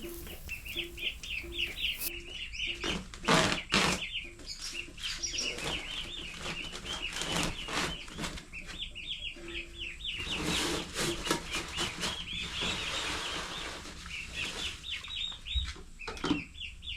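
Baby turkey poults in a brooder give repeated high, thin peeps in quick clusters, broken by a few louder scratchy rustles and thumps nearby.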